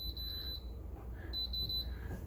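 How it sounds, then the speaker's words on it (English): A Gourmia 2021 5.7L air fryer gives two bursts of rapid, fairly quiet electronic beeps, separated by a short pause, over a faint low hum. "Also the beep is quieter."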